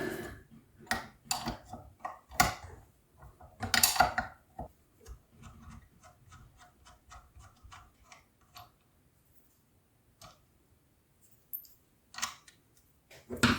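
Hand tools clicking and tapping at close range while the ground wire is removed from the starter of a Volvo BM 500 tractor, with irregular metallic ticks, bursts of activity and quiet gaps.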